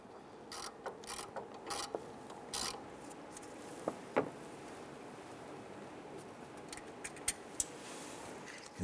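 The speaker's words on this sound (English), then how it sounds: "Using an 8mm socket and extension with our 1/4-inch ratchet, we're going to reach in right behind our crankshaft here, and we're going to loosen the bolt here." A 1/4-inch ratchet with an 8mm socket and extension works a crankshaft position sensor bolt on a 1994-2004 Ford Mustang, giving faint scattered clicks and metallic ticks with pauses between, close but quiet, without speech.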